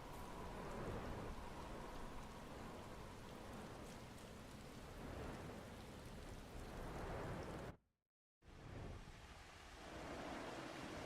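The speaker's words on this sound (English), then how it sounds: "So much rain in this game." Heavy rain in a video game pours steadily with a broad rushing hiss and low rumbles, briefly cutting to silence before resuming.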